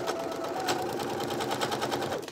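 A sewing machine stitching a seam on a Simplicity 9745 garment, running as one steady rapid whirring stitch rhythm, close and alone, for the whole stretch.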